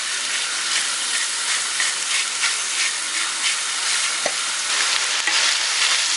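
Italian sausage and chopped onion fry over medium-high heat, giving a steady, dense sizzle with light stirring noises and no talking.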